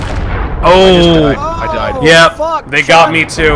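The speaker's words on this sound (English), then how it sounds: "They're shooting so many cannons at one shot." Heavy ship cannon fire in Sea of Thieves, with loud booming blasts landing among players while they shout and talk over the barrage.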